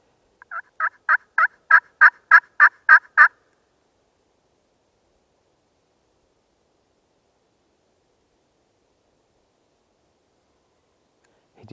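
A wild turkey gobbles in answer to a pot call during spring scouting, one rapid rattling gobble of about nine pulses, clear but distant, followed by long quiet.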